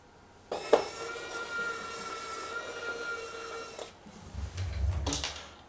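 A powered screwdriver backing screws out of a panel on a Creality Ender 3 V3 3D printer, heard as a steady whirring whine lasting several seconds, then a short clatter and a second brief burst.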